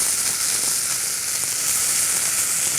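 Roast beef sears in induction cookware with a steady, close, even sizzle and hiss, no voices.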